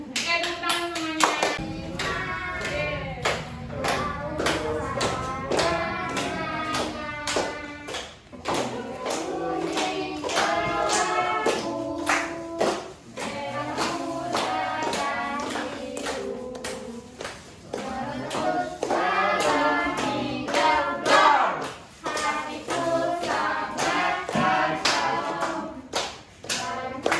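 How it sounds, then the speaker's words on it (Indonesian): Classroom of children clapping hands in applause, with scattered claps and taps running under frequent talking throughout. "Tepuk tangan semuanya."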